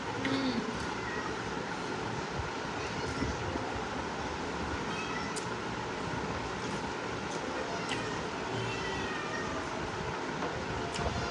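A pet cat named Minu meows now and then indoors against a steady background hum and rumble, with no speech over it.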